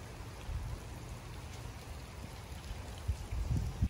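Rain falls outdoors at a gated apartment complex as a steady, even patter, with a few soft low thumps rising near the end.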